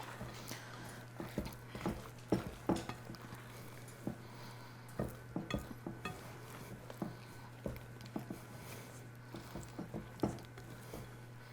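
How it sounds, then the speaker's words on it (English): Chocolate chips are stirred by hand into thick cookie dough for chocolate drop cookies, giving close, irregular soft thuds and squishy scrapes that repeat in an uneven rhythm, with no talking. "I think I'm gonna stir these in because this dough is pretty darn thick"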